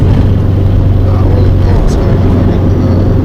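Subaru Forester STI with a 6-speed swap cruising at about 60 km/h and 2,500 RPM, a loud steady low engine drone with road noise inside the cabin, continuous and unchanging.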